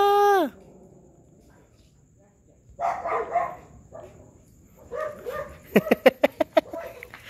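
A dog barks in a quick series of sharp yips and barks, close by, after a whine and some rustling.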